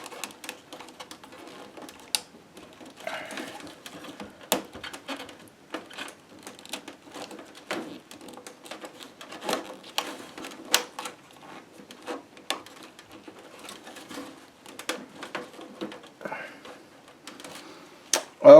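Ink cartridges snap into an Epson R260 printer fitted with a continuous ink system, giving scattered sharp plastic clicks and small handling knocks at close range with quiet gaps between them.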